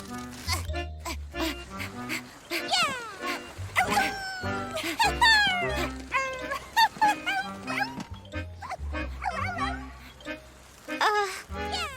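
A cartoon sled dog barking and yipping in quick, bright bursts over busy children's cartoon music, with other squeaky animated character sounds mixed in, loud and continuous.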